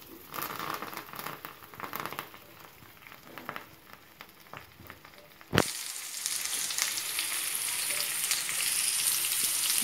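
Onions frying in oil with mustard seeds and fenugreek for seer fish curry. A soft crackle and stirring comes first, then a sudden loud sizzle as more goes into the pan, followed by a steady close hiss.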